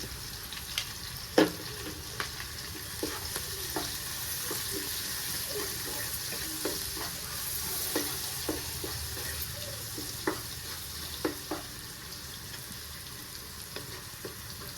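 Cauliflower fries in a pan with turmeric and salt, a soft steady sizzle broken by scattered clicks and scrapes of stirring, close and fairly quiet.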